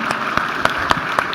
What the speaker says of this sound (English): I'd like you to give a round of applause for our esteemed guests.